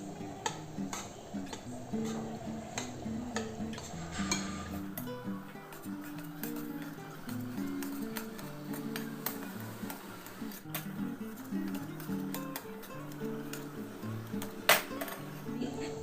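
Besan, gram flour, being roasted on low flame for rava laddu, with a spoon repeatedly scraping and clinking against the pan in an uneven rhythm, close and fairly quiet, with scattered sharper taps.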